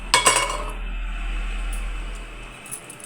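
A metal noodle press plate with medium-sized holes is picked up and handled in a home kitchen, with a couple of sharp metallic clinks near the start, then a low steady hum and faint scraping.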